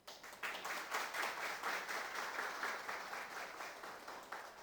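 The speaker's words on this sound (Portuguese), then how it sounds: "E você é digno de todos os nossos aplausos agora." Audience applause at a citizenship title award ceremony, clear rhythmic clapping from a modest crowd, starting abruptly and continuing evenly at moderate distance.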